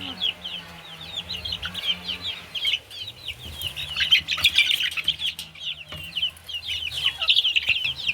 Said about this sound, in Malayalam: കോഴിക്കുട്ടി